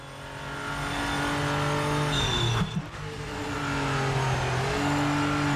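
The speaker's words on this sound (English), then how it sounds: "Definitely the best tire screeching sound of all sims." Tire screeching in a racing sim video game on high difficulty, a steady loud car engine drone with sustained tonal squeal bands, dipping briefly midway then swelling again, no voices.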